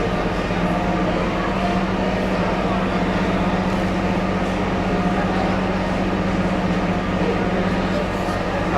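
Small Himalayan train carriages rumbling along the rails with a steady, dense, continuous roar and a low hum, while someone talks over it.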